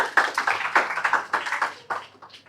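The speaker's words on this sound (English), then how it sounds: "Can we have a round of applause for her?" Applause from the audience at a talk on entrepreneurship and social change, a crowd of hands clapping in a burst of sharp, uneven claps that gradually thins and fades toward the end.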